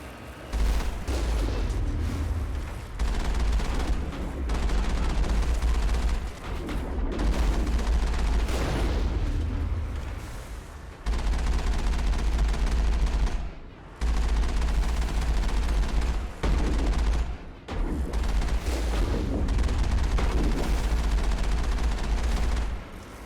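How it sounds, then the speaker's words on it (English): Sustained enemy gunfire in a Mass Effect battle, dense bursts of shots rattling almost continuously with a few brief pauses, loud and close with heavy low booms. "we got people shooting at me"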